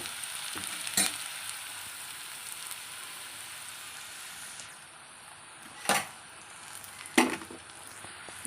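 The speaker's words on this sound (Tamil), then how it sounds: "தக்காளியை சேர்த்து அதே போல் தான் நாம் கொஞ்சம் கிளறிட்டு" Cut tomatoes dropped into onions frying for a Chennai fish curry, a steady sizzle with a few sharp stirring scrapes and clatters, close and alone with no talk.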